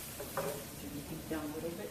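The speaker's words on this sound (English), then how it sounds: "3 tablespoons of tomato paste. Let's stir it." Tomato paste stirred in a hot pan, a short soft sizzle with a couple of spoon scrapes against the metal, faint and close.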